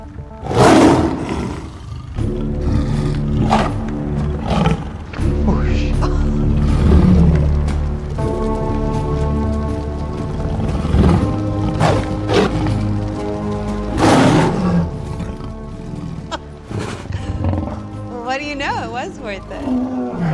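A tiger roars loudly several times in a tense drama scene, deep bursts rising over a rumbling background, while people talk between the roars.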